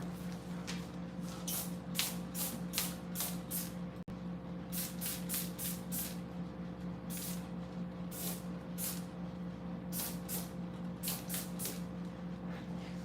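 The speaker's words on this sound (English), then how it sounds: "Here's a hydrogen peroxide bathroom cleaner. I'm gonna give it a try." A hydrogen peroxide bathroom cleaner is sprayed in quick bursts of hissing spritzes, grouped in rapid runs over a steady background hum, fairly close with no speech.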